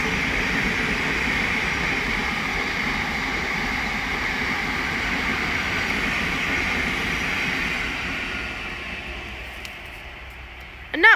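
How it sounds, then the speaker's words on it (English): A Thameslink Class 700 electric train on the Midland Main Line at Elstow, running from Three Bridges to Bedford, passes as a loud, steady broadband rumble and rush that holds throughout and eases slightly near the end. "The next train to pass by is going to be a Thameslink Class 700 from Three Bridges to Bedford."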